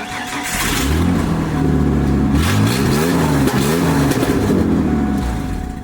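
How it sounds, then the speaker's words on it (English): A loud, rough truck engine rumbles and revs continuously, its exhaust fallen off ahead of the catalytic converters, with a throaty, blatting unmuffled roar, rising in pitch midway. "I'm pretty sure the exhaust has fallen all the way off underneath in front of the cats."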